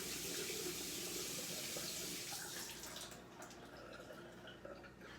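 A tap runs steadily while hands are washed, a loud hissing rush of water that softens and thins partway through, with no talking.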